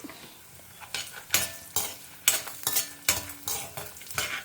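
Lentils, cumin seeds and black pepper fry and sizzle in a pan with dried chillies for a Tamil moong dal sambar, broken by repeated scraping stirs of a spoon at close range, with no talk.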